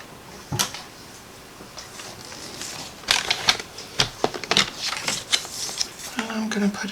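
Paper trimmer shuffled and set in place on a craft table for card making, a run of close, sharp plastic clicks, slides and knocks, sparse at first then bunching into quick taps, with a low hum near the end.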